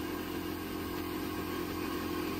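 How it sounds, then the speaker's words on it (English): Air hisses steadily from a car's turbo blow-off valve during a boost leak check, a constant close-up rush layered over the low, even hum of the engine, with no break across the short span. "There's air coming out the blow-off valve"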